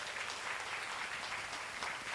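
An audience at a masterclass event in Nairobi clapping for a poet, a soft, steady patter of applause heard at low level for a couple of seconds.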